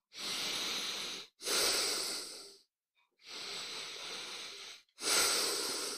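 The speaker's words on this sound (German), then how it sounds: "Und dann atmen wir durch das geöffnete linke Nasenloch ein und aus. Immer ein und aus." Slow breaths drawn in and pushed out through one open left nostril during a calming breathing exercise: four long, close, airy hisses, each lasting one to two seconds, separated by brief silences, with no talk over them.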